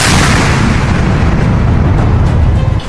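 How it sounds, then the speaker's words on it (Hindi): A Light Combat Helicopter fires explosive ordnance: a very loud, sustained roaring blast fills the whole span, rumbling heavily and barely easing before it fades slightly at the end. "LCH यानी लाइट कॉम्बैट हेलीकॉप्टर का धमाका देखिए"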